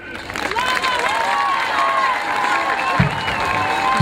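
An audience at a city gathering applauds as a minesweeper's crew is invited onto the stage, steady clapping and crowd noise with cheers over it and a few louder thumps near the end.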